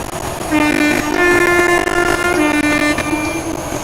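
An Azuma train passes close by with a loud, continuous rumble and sounds a sustained horn, the roar holding steady throughout.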